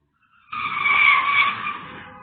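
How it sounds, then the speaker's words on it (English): Car tyres skid and squeal at high speed as the driver loses control, a single sharp screech that starts abruptly and holds for under two seconds, close and fairly loud. "This vehicle makes sudden maneuvers at high speed and loses control."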